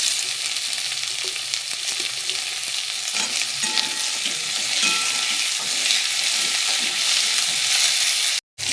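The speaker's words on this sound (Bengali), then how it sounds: "প্রথমে দিয়ে দিচ্ছি পটলগুলোকে দিয়ে আগে একটু ভেজে নেব।" Pointed gourd (potol) frying in hot oil in a home kitchen pan, with a steady dense sizzle and occasional stirring scrapes, close and continuous, ending in a brief dropout.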